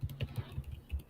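Rapid typing on a computer keyboard while entering a company name into a Java program, with a run of soft, fairly quick keystrokes close by and no talking.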